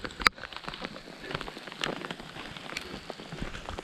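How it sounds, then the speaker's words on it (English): Hail falls on an open mountain trail in the Lost Creek Wilderness, a dense, steady patter of small ice pellets with occasional sharper ticks, continuous and moderately close. "Hailstorm."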